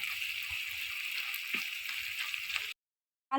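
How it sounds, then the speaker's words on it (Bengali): Onions sizzle steadily in hot oil while being fried until browned for a cauliflower, eggplant and tengra fish curry. The hiss stays close and even for nearly three seconds, then cuts out abruptly. "পেঁয়াজটা ভালো করে ভেজে লাল লাল করে নেবে"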